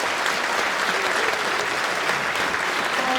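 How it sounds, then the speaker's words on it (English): Steady, dense applause from a school audience at a junior spring concert, filling the room continuously at close range with no talk over it. "Let's give them a round of applause too."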